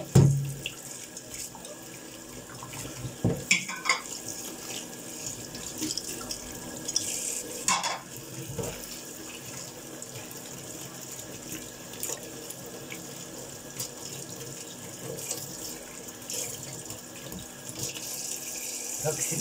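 Tap water runs steadily into a kitchen sink, a continuous close splashing hiss with a few clinks of dishes and pots now and then, and no talk over it.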